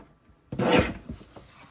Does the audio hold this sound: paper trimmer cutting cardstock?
yes